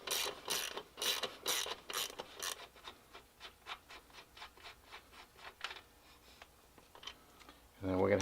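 Ratchet wrench loosening the rear wheel of a Honda Grom motorcycle, with rapid loud clicking strokes at first, then quieter, slower ratcheting clicks, close up.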